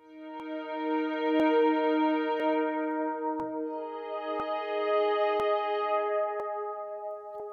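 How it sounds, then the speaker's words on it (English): Sustained granular pad built from the bowed violin sample in Phase Plant 2.1, a steady harmonic drone with regular soft clicking grain pulses and a filter slowly opening and closing, heard alone. "using the bowed violin sample that comes with PhasePlant"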